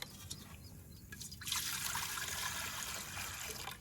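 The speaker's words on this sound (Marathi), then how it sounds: "तर आता हे टोपमध्ये आपण पाणी टाकूया" Soft trickling builds into a steady pour of water about midway, fairly quiet, with no voices.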